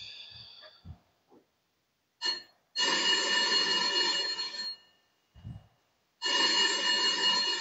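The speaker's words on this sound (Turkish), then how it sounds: "Kapı değil, telefon." An indoor telephone bell rings in two long, loud bursts separated by a pause, with brief soft thumps and movement noises around them and no talk.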